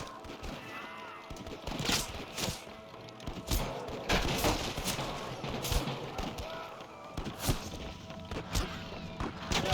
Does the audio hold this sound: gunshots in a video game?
yes